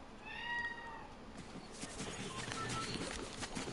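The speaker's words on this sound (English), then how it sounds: "You can hear my cat." A house cat meowing indoors, a couple of drawn-out, tonal meows early on, fairly faint and close, followed by soft background rustling with no talk.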